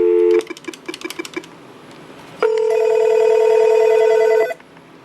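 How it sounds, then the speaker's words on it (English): Nortel Norstar 616 business phone system with a quick series of short dial beeps, then a pause and a steady electronic line ring lasting about two seconds before cutting off, with no talk. "This is actually on line 1, so it's going to ring."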